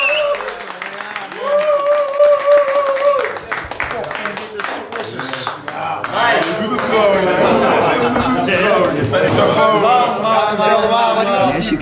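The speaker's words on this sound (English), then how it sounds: "And here you can hear the crowd." Tournament audience at the final of a Magic: The Gathering Old School 93/94 card game cup breaks into sustained applause and cheering, loud and dense, following speech and some tonal sounds at the start.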